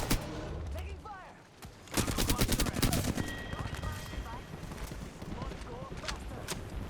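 Gunfire during a firefight in Apex Legends: rapid automatic bursts and scattered shots, with a dense volley in the middle, over game effects and talking players.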